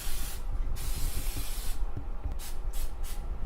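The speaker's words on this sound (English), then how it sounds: "we're going to lightly grease our muffin pan" Cooking spray hissing onto a muffin pan in several close bursts with brief gaps between them, loud and breathy.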